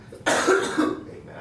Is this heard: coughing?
yes